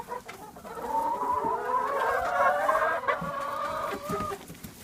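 Hens cluck and warble nearby inside an insulated winter henhouse in a steady, overlapping chorus, with one drawn-out rising call standing out over the flock.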